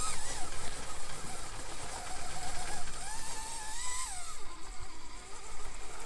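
A small RC rock crawler on LGRP Claw Hammer 1.0 tires creeping slowly over rocky terrain, its electric motor whining and rising in pitch, steady and close with a faint buzzing drone throughout.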